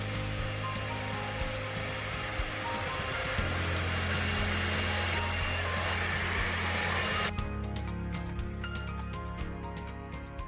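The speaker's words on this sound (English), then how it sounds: "Using a heat gun or a hairdryer, we'll apply heat on all four sides to soften up the glue holding the LCD in" A heat gun or hair dryer blows hot air around the edges of a Lenovo Yoga 500 laptop screen to soften the LCD glue, a loud continuous whooshing drone close by, with its pitch shifting partway through.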